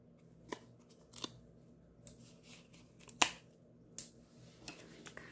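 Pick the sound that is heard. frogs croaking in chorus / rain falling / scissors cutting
scissors cutting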